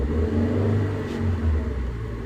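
A manual car's engine revving as a learner driver presses the accelerator, a low rumble that swells and eases in a couple of surges, heard from inside with no speech.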